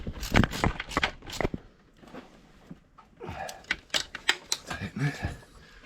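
Ratchet wrench clicks while a nut is tightened during a Honda V6 fuel injector replacement, quick bursts of close ratcheting with brief pauses, with people talking.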